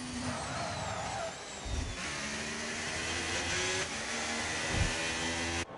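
A Ferrari race car engine howls at speed on track, steady and loud with a rising pitch sweep and gear-shift dips, continuous throughout.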